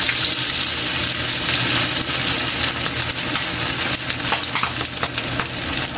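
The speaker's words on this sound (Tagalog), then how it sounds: "ilalagay na natin yung bangus natin para mag-fry na rin natin mga kaili" Milkfish (bangus) frying in hot oil for sinigang, a dense continuous sizzle and crackle with scattered pops and faint utensil clinks, close up with no talking.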